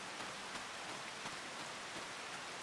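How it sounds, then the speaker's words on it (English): Steady rain in the Farming Simulator 25 video game, a continuous soft hiss of falling drops with faint patter, no voices. "We don't want to harvest in the rain. It ruins yield."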